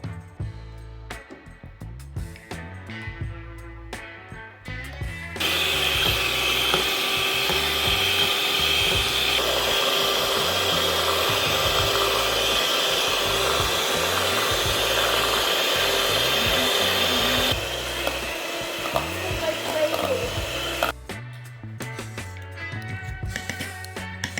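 An electric hand mixer whirs steadily at close range as it beats double cream for making ghee, a continuous motor drone with faint rattling that runs for about twelve seconds between quieter stretches of background music.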